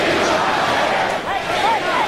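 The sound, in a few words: boxing arena crowd of over 12,000 roaring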